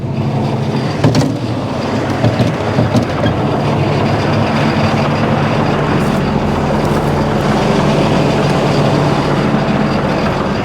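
A tractor engine drones steadily and loudly throughout, a continuous low rumble under a broad mechanical hiss, as it is throttled down while parked with the PTO being shut off.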